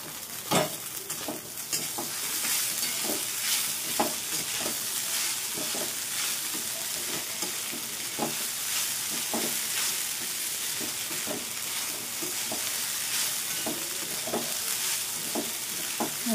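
Peanuts, potatoes and sabudana frying in a pan for khichdi, a steady close sizzle with regular scraping stirs of a spatula every second or so, and no talk.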